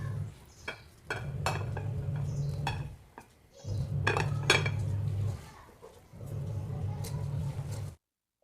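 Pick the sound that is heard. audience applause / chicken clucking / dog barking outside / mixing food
mixing food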